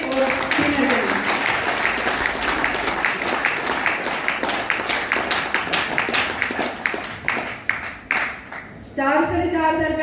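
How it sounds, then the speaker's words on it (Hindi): An audience at a team coordinator award function claps loudly and steadily, a dense wash of applause that thins into scattered claps before a burst of music at the end. "तो एक बार जोरदार ताली मेरी टीम की और सीनियर के लिए"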